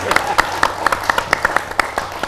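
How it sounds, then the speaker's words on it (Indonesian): Applause for a speaker at a community forum on creative economy development, sparse, distinct claps in an uneven rhythm from a few close hands rather than a full crowd, heard over a low background murmur and voices. "Tepuk tangan untuk Bapak Robi Muhammad"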